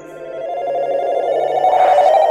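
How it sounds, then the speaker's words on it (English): A telephone rings inside the video game Dragon Quest Builders, a steady electronic ringing tone that holds for a couple of seconds and grows slightly louder toward the end, with no talking over it. "Her phone's ringing."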